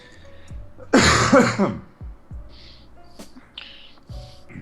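A cough, heard as a loud rough burst of throat clearing near the start, followed by quieter thumps and faint chirp-like noises in a mostly quiet setting.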